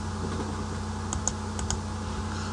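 A computer keyboard is typed on while entering lines of C# code, giving a few sparse, soft key clicks spread over a steady background hum, with no voices.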